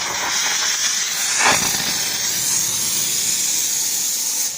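A steam cleaner blasts a continuous loud, steady hiss of steam onto a car to strip off expanding spray foam, with a brief rougher surge partway through and no voices.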